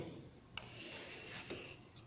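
A sharp pencil scratching along wood while marking out a tenon, a soft continuous rubbing scrape with a few brief taps, close and quiet with no talking.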